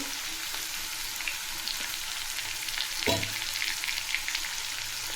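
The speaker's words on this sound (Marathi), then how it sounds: "तेलात लाल तिखट टाकायचे आहेत" Red chili powder hits hot oil for a bhogichi bhaji, giving a continuous loud, hissing sizzle with a brief stirring knock partway through.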